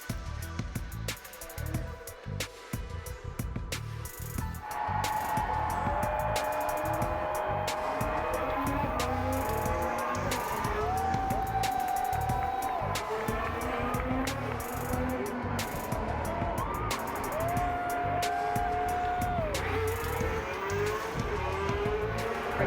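Formula One race cars at the Miami Grand Prix, with engine notes rising and falling in long passing sweeps over steady loud crowd and track ambience, cars whining past one after another.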